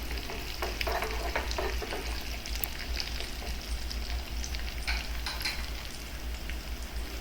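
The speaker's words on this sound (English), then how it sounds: "Now add cashew nuts and fry them until they turn golden." Cashew nuts fry in a pan until golden for Kerala parippu payasam, a steady close sizzle and crackle that runs unbroken at an even level.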